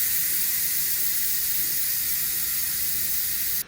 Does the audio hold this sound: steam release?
yes